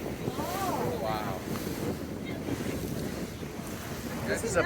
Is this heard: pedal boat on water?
yes